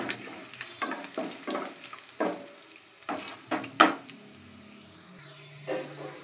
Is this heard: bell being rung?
no